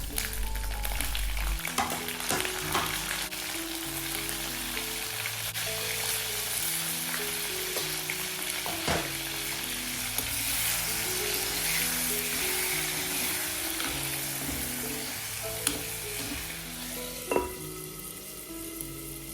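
Tomato pieces sautéing in a pan give a steady, close sizzle, with occasional scrapes and clinks of stirring and a light musical backing throughout.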